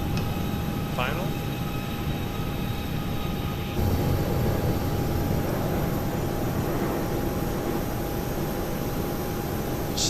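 A steady, droning airplane engine in a flight simulator as the aircraft flies its final approach over snow-capped Rocky Mountain terrain, a continuous even hum with no breaks.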